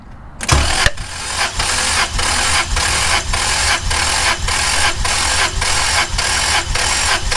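Engine cranking over steadily for several seconds during a compression test on cylinder 6, the rearmost driver's-side cylinder, with a loud rhythmic chug of evenly spaced pulses after a brief starter whir.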